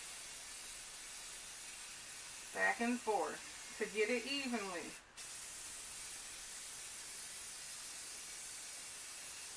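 A spray bottle used on a DIY wine and bar station project: a person speaks briefly, then a steady close hiss of spraying runs continuously for several seconds.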